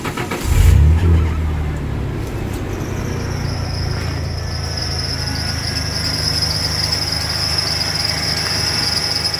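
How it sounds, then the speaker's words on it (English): A 1992 Ford F150 pickup engine cranks and catches with a loud burst, then settles into a steady idle while a high, continuous belt squeal rings over it throughout; no talking. "This button here starts it,"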